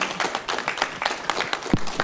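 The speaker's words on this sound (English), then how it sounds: "we should all give them a round of applause for this" Audience applause for an event's organizing team at a resilience-themed gathering, a steady wash of many hands clapping in a hall for a couple of seconds, with a faint voice briefly underneath.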